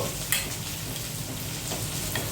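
Corn and a mustard paste ground with coriander leaves are stirred in a pan, with a steady frying sizzle underneath and a few faint scrapes of the spoon.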